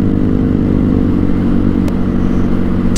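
A Vespa GTS300 scooter engine runs steadily and loudly while riding, a constant low drone with a brief clatter near the end.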